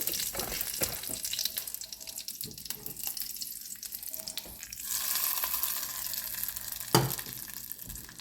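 Mustard seeds, pepper and curry leaves sizzle in hot oil for a tempering for red chilli coconut chutney, a continuous frying hiss with scattered crackles and a louder burst near the end.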